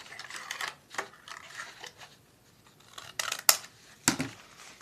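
Child-size scissors snip through paper in several short, crisp cuts, with a few quick clustered bursts near the end, fairly close and moderately loud with no voices.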